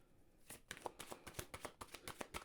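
Tarot cards being shuffled, a quick run of crisp riffling flicks in an irregular rhythm, close and fairly quiet, with no talking.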